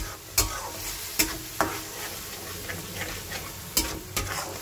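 Spice paste of cumin and other ground spices cooked with sour yogurt, salt and turmeric in a pan, a continuous sizzle broken by several sharp scraping stirs of a utensil, no talking.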